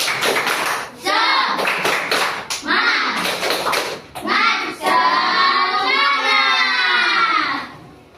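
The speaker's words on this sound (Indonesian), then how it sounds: "kita tepuk semangat dulu" Schoolchildren in a classroom perform a tepuk semangat clapping chant, sharp rhythmic bursts of unison claps alternating with loud group shouting and chanted voices, close and energetic.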